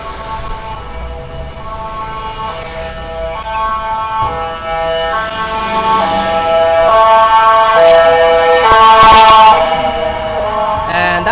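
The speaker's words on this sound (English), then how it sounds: "that's what the ambulance sounds like" An ambulance siren wails with rising and falling tones, steady and fairly loud, swelling slightly louder toward the end over a busy early-morning street background in Phuket Old Town, Thailand.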